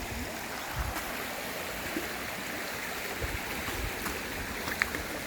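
A forest river near hidden waterfalls in Bulacan rushes steadily, a close, continuous watery hiss with occasional small splashes and no talk.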